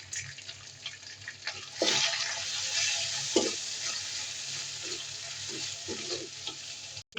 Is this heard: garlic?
yes